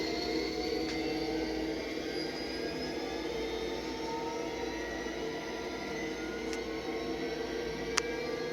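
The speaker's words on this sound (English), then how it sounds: "you can hear how the motor is throttling up as the engine starts to move" A KATO model train motor hums with a steady whine, its tones slowly gliding upward as it gathers speed and the locomotive starts moving, with a couple of faint ticks near the end.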